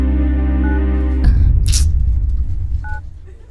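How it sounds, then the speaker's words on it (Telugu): A phone call that fails to connect, with electronic tones and beeps, a brief sharp blip in the middle, then fading line noise. "ఎన్నిసార్లు ఫోన్ చేసినా ఫోన్ కలవడం లేదు."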